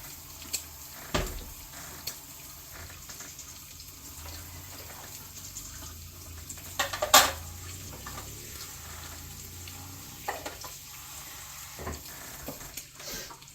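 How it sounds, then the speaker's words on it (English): Running tap water rinsing out a blender base container at a kitchen sink during meal prep, a steady moderate wash with a few clinks and knocks against the container. "rinse out the actual base container"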